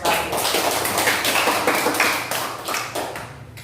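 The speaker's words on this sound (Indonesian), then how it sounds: "Tepuk tangan dulu untuk kelompok 1" Classroom applause for a student discussion group, a loud burst of many hands clapping together that fades slightly toward the end.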